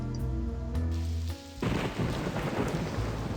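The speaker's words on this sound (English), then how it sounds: "It's raining?" In the Blackwell adventure game Last Act, soft tonal music gives way to a sudden crack of thunder followed by steady, rushing rain filling the scene.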